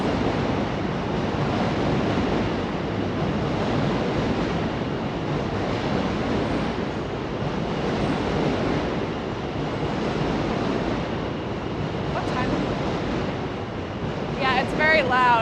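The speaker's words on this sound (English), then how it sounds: "the Manhattan Bridge has a subway line going across it" A subway train rumbles across the Manhattan Bridge overhead in DUMBO, Brooklyn, a loud, steady roar filling the whole stretch like heavy surf, with brief traces of voices near the end.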